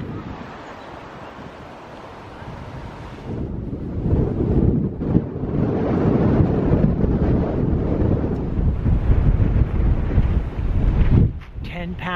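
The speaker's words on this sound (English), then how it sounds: "It's kind of breezy out here" Strong wind buffets the microphone on a breezy coast, a loud, rumbling roar that swells after a few seconds and stays heavy, with surf-like rushing underneath.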